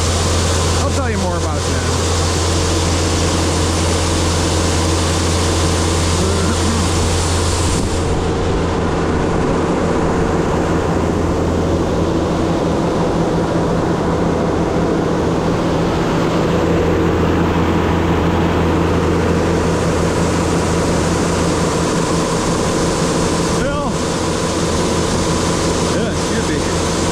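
Corn dryer running with a loud, steady mechanical roar and constant low hum, fan noise swelling and easing slightly over a long stretch, heard close by without interruption.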